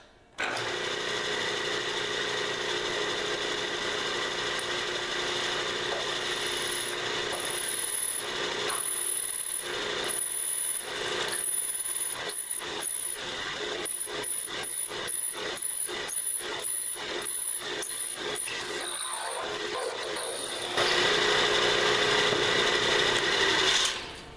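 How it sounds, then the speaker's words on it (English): A milling machine spindle drills a hole with cutting oil, giving a steady mechanical whine with rhythmic grinding and rubbing pulses through the middle, then a louder, denser run near the end, heard alone. "I'm going to turn the spindle and drill the hole."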